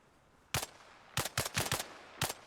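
Incoming gunfire in a shooter video game: sharp, loud shots crack out one at a time and then in a quick cluster of several, with short silences between, close and punchy over quiet background.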